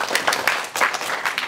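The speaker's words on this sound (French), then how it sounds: "On peut l'applaudir." Applause breaks out at a middle school event for a student who has just finished a presentation, with clustered bursts of clapping from a modest group, fairly close and a little uneven.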